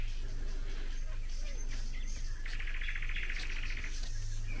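Birds chirping and singing on a foggy May evening, several thin calls and a brief trilling phrase over a steady low hum, fairly quiet and distant, with no talk.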